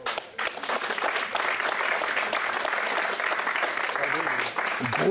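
Stadium crowd at the 1972 African Cup of Nations match between Congo and Mali bursts into sustained, loud applause and cheering after the second goal, steady throughout with a commentator's voice over it.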